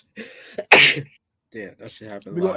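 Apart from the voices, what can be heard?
sneeze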